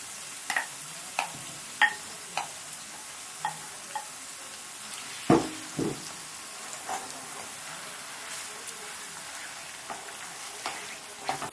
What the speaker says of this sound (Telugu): మన ఆనియన్స్ ఎగిపోయాయండి మరీ వేగవద్దు సరిపోతుంది ఇప్పుడు మనం లివర్ వేసేసుకుందాం